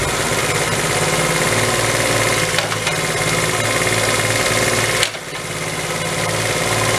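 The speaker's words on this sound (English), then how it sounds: "idle's kind of jumping around a little bit" Honda Z50 motorcycle engine idling unevenly at close range, a steady low putter with a slightly irregular rhythm that dips briefly toward the end before settling back into idle.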